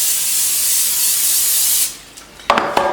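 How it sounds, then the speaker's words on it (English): Cooking spray hisses in a long, steady burst into baking pans in a home kitchen, stopping abruptly, followed by a few light metallic clinks of the pans being handled. "I'm going to use some spray in our pans"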